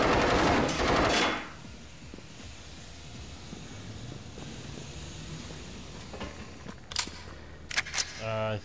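Gunfire from shooting enemies in the co-op video game Generation Zero: a loud opening blast, then quieter scattered clicks and rumble, ending in a few sharp distant shots and rattling bursts, with a voice speaking in between.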